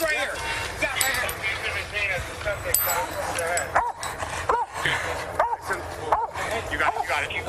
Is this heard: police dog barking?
yes